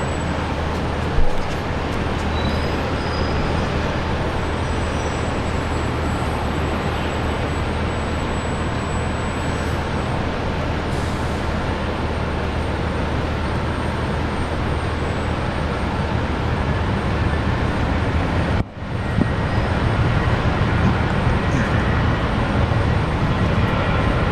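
A Virgin Australia airliner rolls for takeoff on runway 19 left at Brisbane Airport, a steady broadband engine roar holding at a fairly loud level from a distance, with one brief sharp knock near the end.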